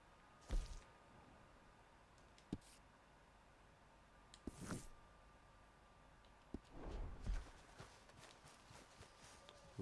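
Horse hooves in the video game Red Dead Redemption 2 clop in scattered bursts over a quiet background, a few heavy thuds and short runs of steps, with no speech.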